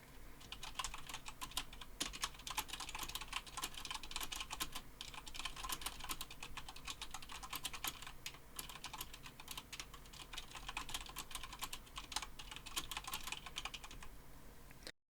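Steady, fast typing on a Corsair Strafe mechanical keyboard fitted with O-ring dampeners, a dense run of close, muted keystrokes with softened clicks, continuing evenly without talk.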